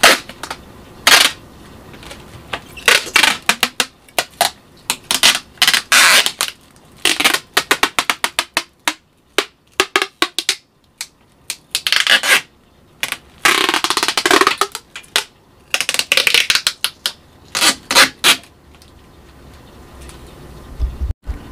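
Tape is pulled off the roll and pressed onto a DIY cat scratcher in repeated crackling, ripping bursts with short pauses between them, close and fairly loud, with no talking.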